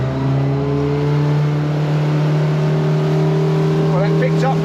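Boat engine opening up under throttle, a loud, steady, droning hum whose pitch creeps slightly upward, with a faint voice-like sound near the end.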